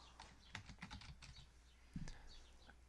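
Someone types a file name on a computer keyboard, producing a quick, irregular patter of close, light key clicks with a brief pause and then a few more taps.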